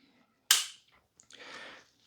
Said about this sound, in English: we're going to pull the trigger for a click